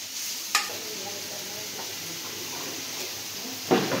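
Taro leaves cooked with hilsa fish fry in a pan with a steady close sizzle, while a spatula scrapes through the mixture twice, once early and once near the end.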